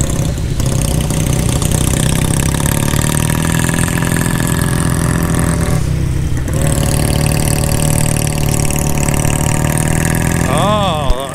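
A classic motorcycle engine runs loud and close at a national motorcycle event, a steady throbbing drone with rising revs throughout, with voices faintly underneath.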